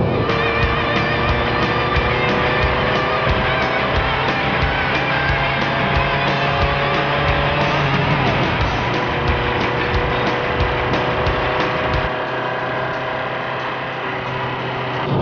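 A 1995 Opel Omega B with the 2.0-litre X20XEV engine and manual gearbox cruises in fourth gear while merging onto a ring road, its steady engine drone and road roar loud and continuous from inside the cabin.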